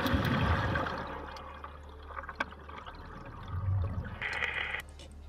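Divers plunge into ocean water, producing a continuous loud rush of churning water and bubbling, rising and falling in a dense wash with a brighter splashy burst near the end.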